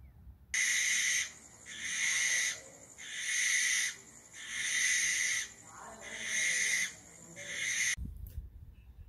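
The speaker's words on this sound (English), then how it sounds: "I wanted to show you what's the barn owl" A barn owl gives long, harsh, hissing screeches, five drawn-out calls in a steady rhythm with short gaps, loud and close, ending abruptly.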